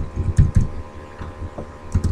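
Typing on a computer keyboard: a short burst of close, soft key clicks in uneven clusters, with a brief pause between groups.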